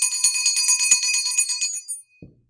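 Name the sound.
bell ringing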